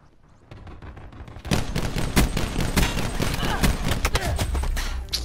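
Rapid gunfire in Black Ops 4 bursts in after a quiet start, dense overlapping shots and cracks, loud and close, sustained for several seconds.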